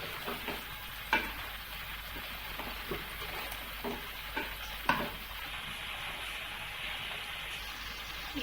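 Chicken korma masala sizzling and frying in a pan while a spoon stirs it, with steady crackle and occasional scrape and clink accents, close and fairly quiet, no talk.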